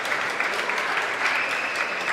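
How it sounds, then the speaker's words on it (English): Dense, continuous audience applause at a youth bouldering cup final in Kaunas, loud and sustained with a steady wash of many hands and no talking over it. "Lots of applause for her."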